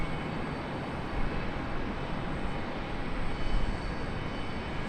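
Airliner arriving at Charlotte Douglas International Airport, a broad steady jet roar at moderate distance that swells slightly midway and again near the end, with no voices.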